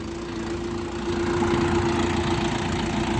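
A small Orion RF 404 reverse tractor engine chugging steadily nearby with a droning hum, getting slightly louder partway through, with no voices.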